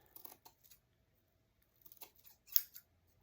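Scissors snip loose strands on a flower wreath in a few quick, faint, close cuts separated by short pauses.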